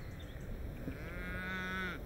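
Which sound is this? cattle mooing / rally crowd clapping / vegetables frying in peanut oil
cattle mooing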